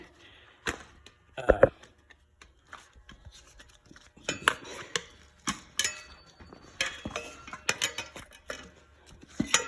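Two big tire spoons prying a tire and its mousse insert off a rim, heard as close, irregular metallic clanks, scrapes and knocks spread through the clip, with quiet stretches between bursts.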